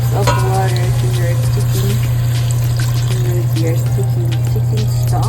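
Cups of water are poured into a pot of chicken stock on the stove while making Nigerian-style jollof rice, with a steady trickling splash over a constant low electrical hum.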